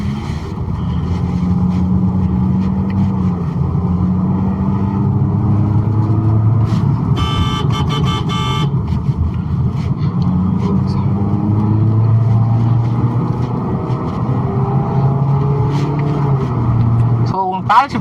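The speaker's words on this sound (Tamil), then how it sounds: "ஸோ இப்போ ஸ்போர்ட் மோடு இருக்குது வண்டி." A 2024 Honda Amaze sedan driving in sport mode hums with a steady engine and road drone from inside the cabin, rising and falling in pitch as it accelerates, while someone talks over it and a brief chime sounds midway.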